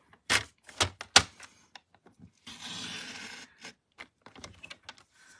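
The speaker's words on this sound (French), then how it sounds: "je vais faire une coupe à 2 cm, une coupe à 4 cm et une coupe à 6 cm" Paper being cut for a handmade craft basket, with a few sharp close snips followed by a longer rasping slide and scattered light taps and rustles.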